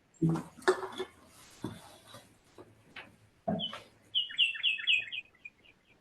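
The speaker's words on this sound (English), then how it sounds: "That bird is as loud there as it is here." A bird chirps outdoors in a quick series of bright, repeated tweets toward the end, heard faintly through an indoor council meeting with scattered clicks and knocks.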